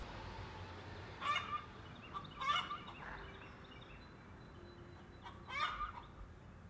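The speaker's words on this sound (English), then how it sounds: "Chickens are on a roll." Three short bursts of clucking and squawking poultry calls at moderate distance, separated by quiet background hum.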